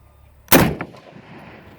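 A single sharp rifle crack from an old Ruger Mini-14 firing at a steel target 155 yards away, loud and close, followed by a brief echoing tail.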